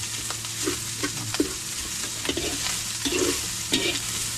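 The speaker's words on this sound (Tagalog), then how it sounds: "Yan ang halo-haloin itong karne po. Sa ginis sa bawang sibuyas." Meat stirred in a pan of sizzling garlic, onion and shrimp paste, with a continuous fry hiss and repeated scraping spatula strokes at an even, unhurried pace, close by.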